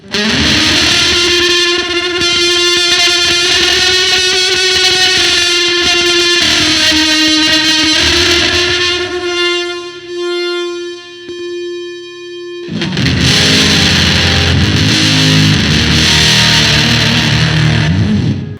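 A Johnny Marr model electric guitar with heavy fuzz distortion sustains buzzing chords and notes, dips to a single held tone, then crashes back in loud and gritty.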